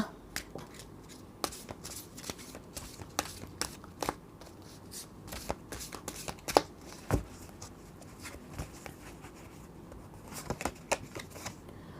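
Tarot cards are shuffled during a reading, making a rapid series of crisp riffling taps and snaps, close and fairly quiet, with brief pauses between bursts.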